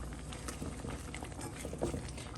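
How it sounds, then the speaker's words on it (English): Thick pasta sauce with grated Parmesan being stirred in a pan: soft, continuous wet bubbling and patter, close and fairly quiet, with no voices. "We're just gonna stir this up"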